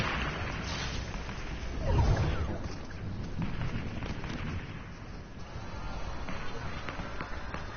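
Thunder from a storm in a PS4 video game rumbles with a deep boom near the two-second mark over a steady wash of rain-like noise, moderately loud throughout.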